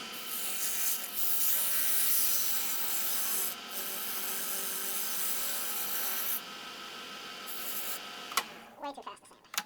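A wood lathe spins an ornament with sandpaper rubbing against it, a steady high whirring rasp that continues for several seconds before ending in a few clattering knocks.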